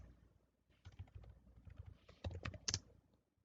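A command typed on a computer keyboard on an attacker machine during a DNS spoofing demonstration, heard as a quiet, close run of uneven key taps that speeds up into denser clicks toward the end, with no talking.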